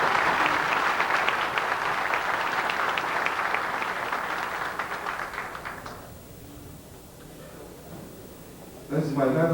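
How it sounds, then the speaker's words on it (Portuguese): An audience at a congress held in a hotel gives a sustained round of applause that gradually thins out over about six seconds, followed by near quiet and then a voice starting to speak. "Uma salva de palmas."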